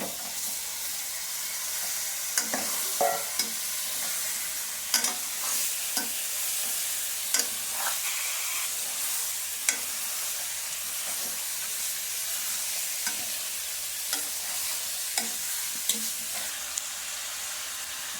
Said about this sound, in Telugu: చికెన్ వచ్చేసి కొద్దిసేపు ఆయిల్లో మంచిగా ఫ్రై అయిపోయింది.